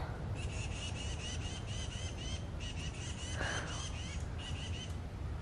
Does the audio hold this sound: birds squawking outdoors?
yes